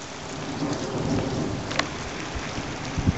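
Steady rain pours outdoors on a road with puddles, a dense continuous hiss over low thunder rumbles, with a couple of sharper knocks and no talk.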